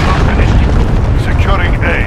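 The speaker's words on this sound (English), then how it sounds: "Enemy cruise missile incoming." Cruise missile strike in Call of Duty: Modern Warfare, a loud continuous roaring, rumbling blast filling the short clip close up, with voices mixed in underneath.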